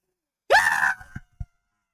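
A voice imitates a poisoned old woman's dying scream in a crowded pub. One sharp rising shriek lasts about half a second and trails off, followed by two short breathy catches, with nothing else around it.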